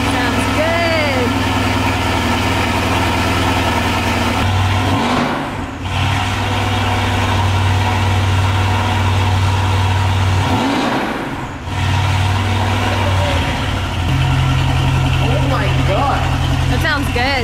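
A Mercedes-AMG GT S fitted with a straight-pipe turboback exhaust idles with a deep, loud, steady rumble, briefly dipping twice, while people talk nearby.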